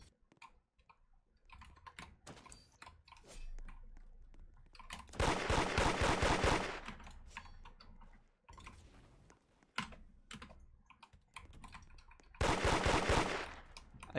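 Automatic gunfire in the Roblox game Da Hood comes in two long, loud, rapid bursts, each about a second or more, over a quieter background of clicks and ambient game noise.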